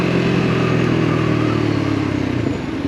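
Lexmoto LXR 125 sporty budget motorcycle engine droning steadily while riding, a loud constant mid-pitched hum with wind noise that eases slightly at the end.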